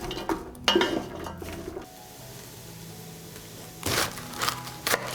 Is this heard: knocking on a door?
no